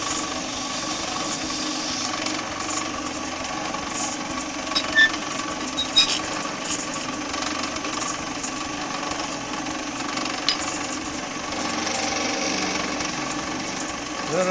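Sandpaper rubbing a spinning wood piece on a lathe during woodturning, a steady hissing rasp over the motor's hum, close and continuous with a few small knocks.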